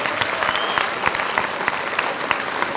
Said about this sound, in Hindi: तालियां बजा के जोर से